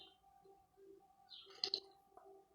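Pet birds outdoors give soft, low, dove-like coos with a few brighter chirps mixed in. They are faint and fairly distant, with a brief louder burst midway.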